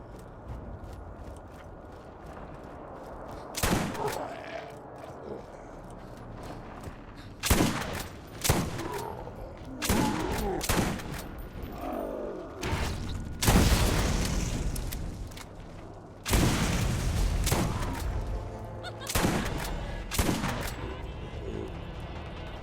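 Shotgun fire in the video game Borderlands (Zombie Island of Dr. Ned, PS4), with loud, booming shots in scattered clusters over a rumbling game soundscape.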